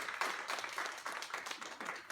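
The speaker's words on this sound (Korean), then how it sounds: "박수 한번 쳐드릴까요?" An audience at a Korean lecture session claps steadily as trainees are called to the front, a dense, moderately distant patter of many hands that runs throughout without pause.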